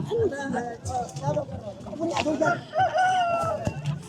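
Chickens cluck and crow intermittently close by at a market where a hen is being bought for a holiday, mixed with people talking over them.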